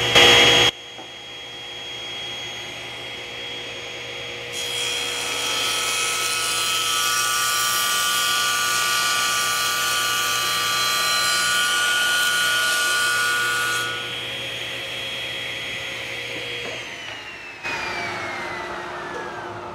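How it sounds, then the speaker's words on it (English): A dust collector hums steadily in a woodshop while a saw cuts plywood with a tapering jig, a loud sustained whine rising over the drone for about ten seconds before winding down, no talking. "So let's put on our gear, turn on the dust collector, and make our cut."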